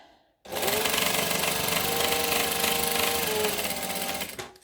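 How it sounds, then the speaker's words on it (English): A sewing machine runs in a steady rapid burst, stitching fabric right sides together with a waterproof lining underneath, loud and close before stopping abruptly. "So I'm going to stitch these right sides together"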